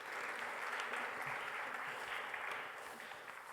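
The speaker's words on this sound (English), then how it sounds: "Please, a round of applause for Dr." Round of applause at an academic conference panel as a speaker comes up, a sustained, even wash of audience clapping at moderate distance that eases slightly toward the end.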